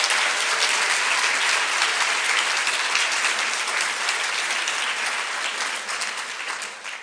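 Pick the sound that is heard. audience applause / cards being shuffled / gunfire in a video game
audience applause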